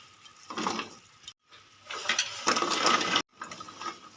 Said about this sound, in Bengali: কটকটিগুলো দিয়ে বন্ধুরা অনাবত্র নাড়তে হবে